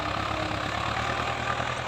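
Close, steady diesel rumble of a Ford 5000 tractor ploughing hard ground, an even low throb holding at the same level throughout with no voices.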